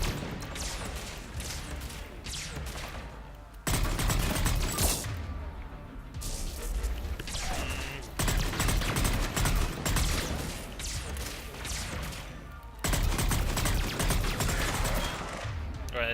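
Black Widow sniper rifle shots in the game Mass Effect 3 come as three loud, sudden cracks a few seconds apart, each over a dense backdrop of ongoing combat noise and gunfire.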